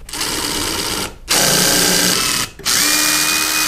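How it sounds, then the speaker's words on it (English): A power drill with an eighth-inch bit whirs loudly in three bursts while pre-drilling holes, stopping briefly twice between holes, with its pitch shifting as it bites in. "You are going to have to pre-drill some holes."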